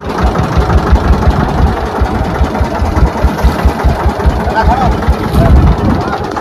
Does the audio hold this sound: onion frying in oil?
no